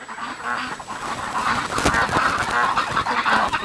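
Ducks call from inside a barn, a dense, continuous flock of honks and quacks close by with no speech over them.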